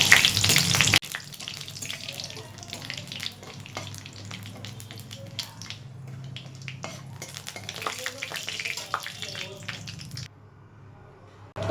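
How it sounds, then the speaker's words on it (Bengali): Dried red chillies, a bay leaf and nigella seeds spit and crackle in hot oil in a pan, a loud burst as they hit the oil easing into a continuous sizzle with occasional clinks, no voices. "শুকনো লঙ্কা তেজপাতা তারপর দিয়ে নেব কালো জিরে এইগুলো ফোড়ন দিয়ে নিতে হবে প্রথমে"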